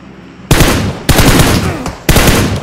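Automatic weapon fire in PUBG Mobile: three loud, close bursts of rapid gunshots, each cutting in sharply and trailing off before the next, with brief quieter gaps between them.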